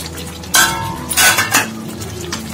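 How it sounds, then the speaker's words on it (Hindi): Spoon scraping and clinking in a pan while stirring potato and spinach curry, a few sharp strokes over a soft background sizzle, close and fairly loud. "ये भी डाल के अच्छे से मिला लूंगी।"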